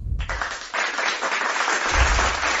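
Applause sound effect triggered from a Maonocaster AM200 sound pad, a steady wash of crowd clapping that rises after a brief quiet start and holds for a few seconds, with no talking over it.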